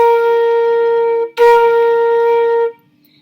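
A brass instrument plays two short accented notes and then two longer held notes in a clean, close and loud line, with no talking.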